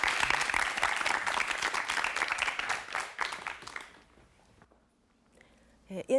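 A studio audience at a Korean TV storytelling show claps hard for about four seconds, then the applause dies away into near silence before a brief sound at the end.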